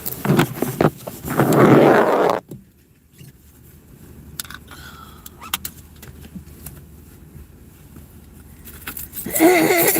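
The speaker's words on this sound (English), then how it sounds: "get my keys out here" Keys jangle briefly as they are pulled out of a pocket in a quiet space, a few light metallic clinks between stretches of someone talking at the start and end.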